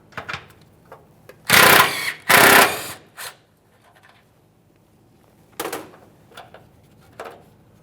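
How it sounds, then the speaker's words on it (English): A ratchet or power tool works off two 10mm mounting nuts from an O2 sensor bracket on a 2008-2017 Mitsubishi Lancer 2.4L, giving two loud, close bursts of rapid buzzing, then softer clicks and rattles with quiet pauses between. "Let's remove our two 10mm mounting nuts holding this in place."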